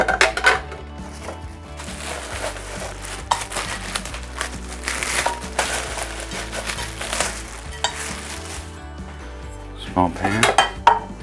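A 6-quart saucepan and other pots and lids are handled up close, with repeated metallic clanks, knocks and scraping rattles, busiest at the start and the end.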